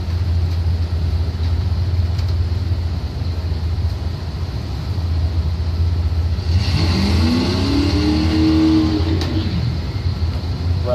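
Drag race cars, a 1988 Mustang and a 1984 Monte Carlo, rumble loudly at the track, a steady engine drone that swells into a rising roar as one car revs and pulls away.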